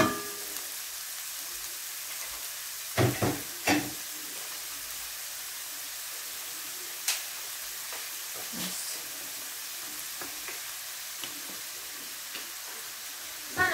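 Vegetables sauté in oil in a pan for meatless borscht, a soft, steady sizzle with occasional stirring clatters, heard close up, with no talking.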